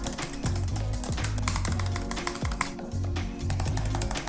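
Soft, plain-feeling keys of a 15-inch MacBook Air being typed on, a quick continuous patter of light taps under a faint steady hum.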